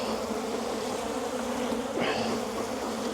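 Honey bees buzzing in a steady, dense drone around an opened hive, close and continuous with no voices.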